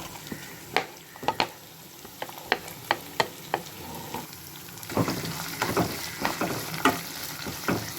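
Onions sauté in a pan with crushed ginger, garlic and green chili for watermelon rind kootu, a soft steady sizzle broken by a string of sharp spoon scrapes and clinks against the pan, with no speech.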